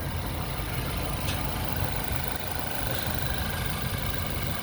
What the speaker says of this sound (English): That V8 is sounding good